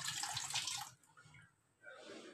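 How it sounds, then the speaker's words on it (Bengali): Kitchen tap water pours into a pot in a soft, fairly faint rush that cuts off briefly and then resumes. "আর কল থেকে কিছুটা জল নেবো,"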